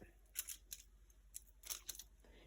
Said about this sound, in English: Then you're going to take your scissors and go around and trim it.